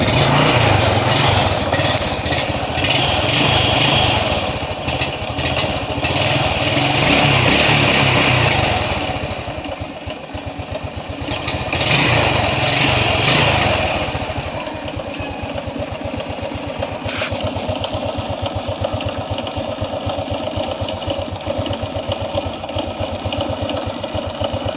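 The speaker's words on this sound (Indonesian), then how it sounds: "Teman-teman sudah lihat ya, motornya sudah bunyi kembali" A Honda Revo Absolute motorcycle engine, just repaired after an ignition fault, runs steadily close by with a buzzing idle, revving briefly before settling back to a constant chatter.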